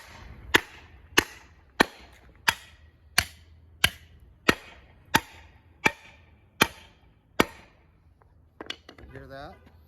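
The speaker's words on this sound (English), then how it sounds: "after you beat it with the hammer" A hammer strikes a fire hydrant cap about a dozen times at a steady, even pace. Each blow is a sharp, loud metallic knock, and the striking stops near the end, followed by a few faint clanks.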